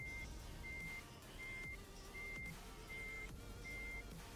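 A vehicle reverses with its backup alarm giving regular, evenly spaced beeps, about six in all, over steady engine and road rumble. No one speaks.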